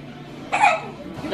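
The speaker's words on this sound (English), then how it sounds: "You got the hiccups, mama, mama." A single close, sharp hiccup from a woman, with a voice murmuring just before and after it.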